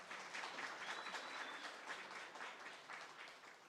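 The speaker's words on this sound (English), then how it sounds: "I just want to give her a round of applause." An audience at an economic equity event gives a round of applause, heard as a soft, even wash of many hands clapping at a distance for the whole stretch.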